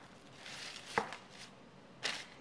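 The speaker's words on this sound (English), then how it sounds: "we'll just cut little incisions into the perimeter" A sharp knife cuts small incisions around the edge of a piece of meat, making two quiet, crisp strikes about a second apart over soft background hiss.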